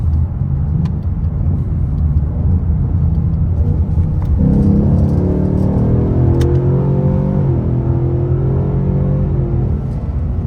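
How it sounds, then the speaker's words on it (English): A car with a 5.0 engine and a 10-speed transmission accelerates hard from a roll, a loud interior engine rumble that climbs in pitch through rising revs and a quick upshift, heard continuously without talk. "I can't understand how hard this car pulls."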